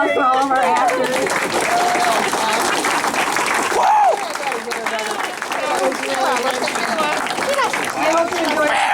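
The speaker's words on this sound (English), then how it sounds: "We have a round of applause for all of our actors." A theatre audience applauds the actors at a memorial performance, dense continuous clapping heard up close with a voice talking over it.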